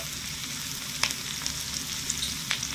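Chopped onion, dried red chilli and a bay leaf fry in oil in a pan, a steady close sizzle with a few sharper crackles and soft stirring scrapes, no voices.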